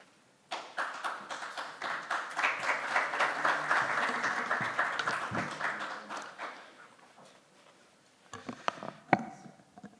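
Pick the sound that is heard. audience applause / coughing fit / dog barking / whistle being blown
audience applause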